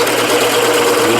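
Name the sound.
drilling a hole in a scalloped pen blank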